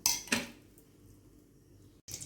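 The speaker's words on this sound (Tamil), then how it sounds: "அடுப்பில் ஒரு கடையை வச்சு தேவையான அளவு எண்ணெய் ஊற்றிக்கலாம்" A metal kadai pan clanks twice onto a stove, then a quiet pause, and another metallic clink follows as oil goes in.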